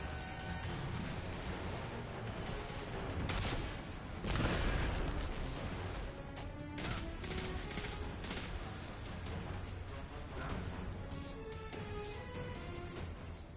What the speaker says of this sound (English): the type of weapon I'm using now is called a pulse rifle